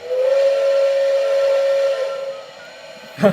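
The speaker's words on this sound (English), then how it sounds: "To blow the whistle, you use the whistle cord." A model locomotive's steady, high steam whistle blows for about two seconds, then fades out, followed by a short hissing puff near the end.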